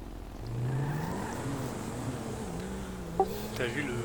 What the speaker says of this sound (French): T'as vu le son de leur voiture, c'est la moto.